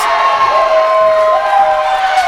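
A wrestling crowd in the Municipal Building in Newport, Vermont, cheers loudly and continuously, with sustained shouts and whoops from many voices filling the hall.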